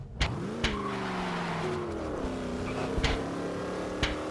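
Steady droning engine of a vehicle in Garry's Mod, a loud continuous motor hum with rising and falling pitch as it revs, broken by a few sharp knocks and thumps.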